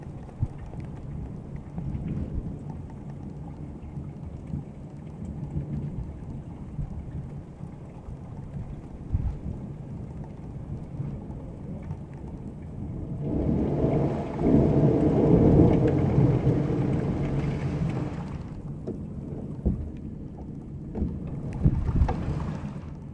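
Steady rain hisses throughout a heavy thunderstorm in Grootebroek, Netherlands, while deep thunder rumbles swell loudly in the middle and return briefly near the end.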